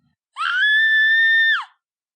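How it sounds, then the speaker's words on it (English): A single loud, sustained scream rings out alone for over a second, holding a high, steady pitch before it cuts off sharply into silence. "The scream sounded again."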